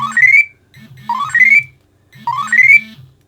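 Loud electronic alarm tones from a Flysky PL18 radio transmitter's low-voltage alarm, triggered at 6.6 volts, repeating in three short bursts, each a rising chirpy melody over low buzzing pulses, with brief silences between.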